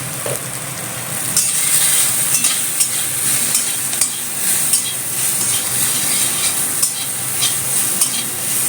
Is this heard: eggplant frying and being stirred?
yes